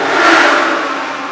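A race car at Indianapolis Motor Speedway roars past, a loud, steady engine whine that swells briefly and then eases off.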